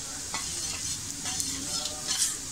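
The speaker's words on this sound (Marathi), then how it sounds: "आपल्याला कांदा जास्त परतून घ्यायचा नाही आहे. साधारण रंग बदलेपर्यंत परतायचा" Onion sautéing in a pan for Maharashtrian pithla, stirred often, with a close, steady sizzle and scraping stirring strokes over it.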